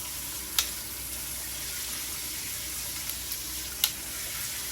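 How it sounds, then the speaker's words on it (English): Water streams steadily from a Delta Nura Venetian shower with both the middle and outside sprayers running, a close, even hiss with a couple of faint knocks. "The middle sprayer and the outside sprayer is going"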